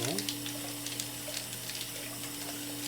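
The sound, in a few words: washing rice under running tap water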